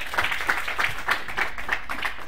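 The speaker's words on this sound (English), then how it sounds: "I think that deserves a round of applause" A small group claps together, with regular soft beats spreading across about two seconds, a steady, moderate patter with no voices over it.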